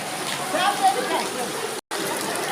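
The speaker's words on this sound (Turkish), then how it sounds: "Yukarıdan sokuyor. Yağmur gibi. Şırıl şırıl akıyor." Water trickles and drips steadily in a reverberant space, a soft continuous splashing wash with a few brighter drops, briefly cutting out near the end.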